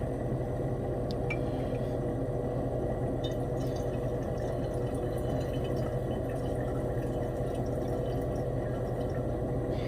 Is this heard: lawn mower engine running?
no